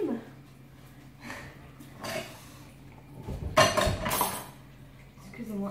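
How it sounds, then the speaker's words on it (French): Dishes and cutlery washed by hand by someone wearing fake nails: sparse close clinks of glass and utensils, then a louder clatter of silverware midway, with soft breathing and no talk. "on va voir ce que ça donne de faire la vaisselle avec des faux ongles"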